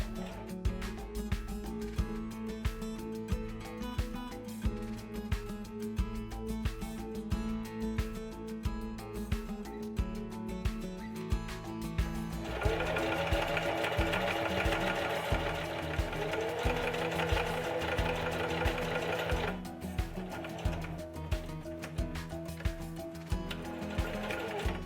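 A sewing machine runs a zigzag stitch along the end of a ribbon cuff bracelet, a steady fast mechanical whir with a rhythmic ticking that grows louder midway, then eases back.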